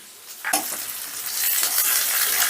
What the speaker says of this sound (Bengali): পেঁয়াজটাকে আমি হালকা লাল করে ভেজে নেব